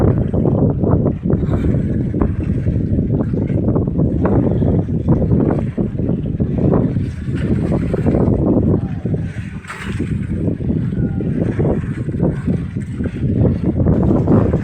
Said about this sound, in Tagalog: Ayan nga sa ating cellphone no, naririnig yung hangin. Umuugong.